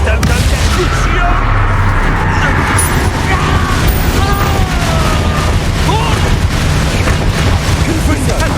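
Confringo blasting spell explosions in the video game Hogwarts Legacy, loud continuous booming and crackling bursts under a thick layer of combat noise, without clear separate hits.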